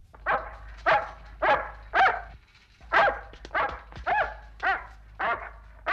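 A dog barks repeatedly and close by, about a dozen sharp yapping barks in an uneven rhythm over a faint low hum.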